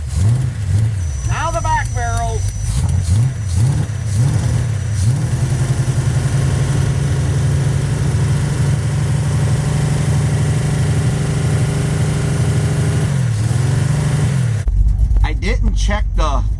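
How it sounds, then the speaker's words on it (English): A Dodge 5.9 Magnum V8 in a revived drag truck idles cold with a steady, loud low rumble that holds throughout, with a brief dip near the end and a voice talking over parts of it. "Here it is idling cold."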